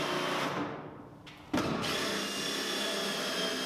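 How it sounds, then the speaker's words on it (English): A power driver whirs steadily as it runs self-tapping screws through a top plate into a steel purlin while framing a shop wall. A brief dip is followed by a sharp onset and continuous close, loud grinding. "I use self-tapping screws to attach this to the purlin."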